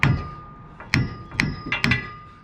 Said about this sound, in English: you take a hammer and you tap that sucker